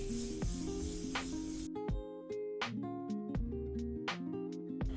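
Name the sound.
setting spray misted onto face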